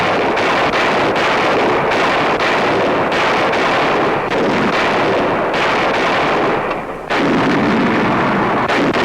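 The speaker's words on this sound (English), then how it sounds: "every day they test the quality of their work with point-blank fire on the proving grounds." Wartime 1943 artillery test-firing at point-blank range on a proving ground, a loud dense rumble with repeated blast-like bursts and heavy wind noise, continuous and distant-sounding with a brief dip near seven seconds.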